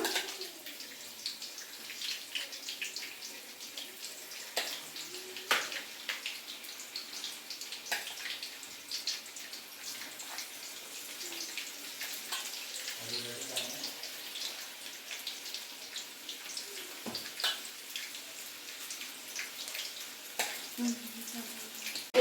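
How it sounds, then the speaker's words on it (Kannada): Cauliflower florets for gobi manchurian, coated in batter, frying in hot oil as a steady crackling, bubbling hiss that runs throughout with small pops and a brief voice partway. "ಗೋಬಿ ಎಲ್ಲ ಫ್ರೈ ಆಗ್ತಿದೆ"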